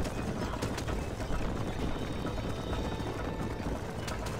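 Horse hooves galloping in the Western game Red Dead Redemption, a steady rapid drumming of hoofbeats blended into a broad rushing noise, continuous and fairly loud throughout.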